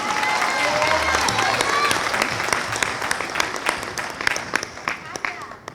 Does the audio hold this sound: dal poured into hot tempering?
no